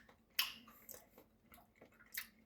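A person tastes bacon, pasta and beans in sauce: a few quiet, close, moist chewing and biting sounds in irregular bursts over a couple of seconds, with no talk.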